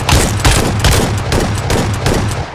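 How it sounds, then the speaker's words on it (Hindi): Shotgun fires repeatedly in a video game, about six or seven loud, close booming blasts in quick succession at a fairly even rhythm, with no talk. "शॉटगन जो है बहुत रिकॉइल करती है। अगर मैं ज़्यादा स्पैम करूँगा तो रिकॉइल करती है।"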